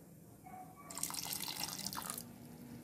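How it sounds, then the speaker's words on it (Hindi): Sugar syrup poured into cooking halwa in a pot, a steady liquid pour and splash for a couple of seconds, close and moderately loud, with faint drips before it. "मैंने यह सारा चाशनी डाल दिया है।"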